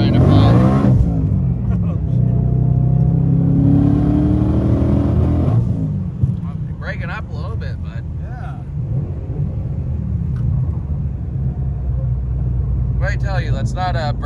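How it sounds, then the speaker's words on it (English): A Mustang accelerates hard and loses traction, a loud revving engine climbing in pitch for several seconds before easing off, followed by lower driving rumble with people talking over it. "we couldn't even make it 10 minutes without this Mustang trying to pull."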